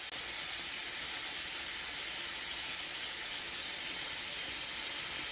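Shrimp on skewers frying in a pan, a steady bright sizzle with fine crackling hiss, fairly faint and continuous throughout with no talking.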